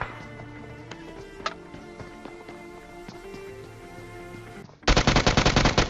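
Gunfire in the battle game PUBG: a loud, dense burst of automatic fire at the end, after a stretch of game ambience with scattered sharper shots.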